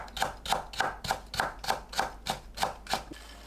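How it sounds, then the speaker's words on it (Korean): A knife cuts carrot into fine julienne strips on a board, giving about ten even, evenly spaced quiet chops in a quick steady rhythm, close and soft, with no talking. "당근을 곱게 채 썰어줍니다."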